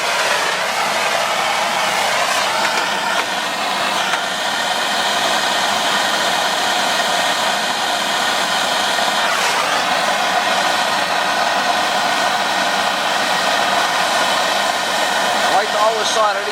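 A torch flame roars steadily while copper pipe joints are soldered for an electric low-boy water heater, a constant loud hiss that goes on without a break, with faint clinks and no talk.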